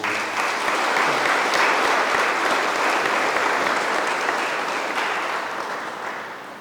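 A church congregation at Mass applauds after the final blessing, giving a full, steady round of clapping that carries through the whole stretch and eases off slightly toward the end.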